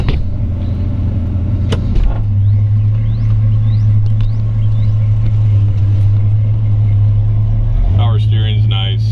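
A 1966 Chevrolet Chevy II Nova SS engine starting up, then settling into a steady, loud, low idle rumble close by, with a brief rise in revs near the end and voices underneath.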